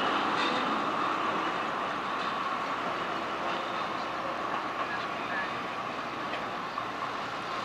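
A Toronto PCC streetcar on the St. Clair route runs along the rails with a continuous loud rolling rumble and light clatter, steady throughout.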